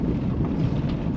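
Steady desert wind buffets the microphone with a low, continuous rumble, loud and unbroken throughout, with no voices, near the Red Butte Airfield by the Grand Canyon.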